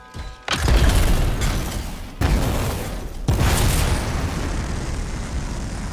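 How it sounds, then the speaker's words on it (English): Canisters blowing up in the video game Anthem: a heavy boom followed by two more loud blasts, each trailing into a long, roaring rumble of debris and fire. "It'll be a contained explosion."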